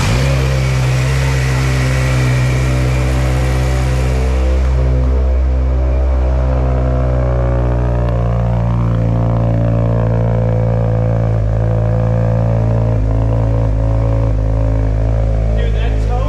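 A fully built Mazdaspeed6 with a huge turbo revs hard on its first drive, its loud, deep engine note rising and sweeping steadily through a long pull and holding strong throughout.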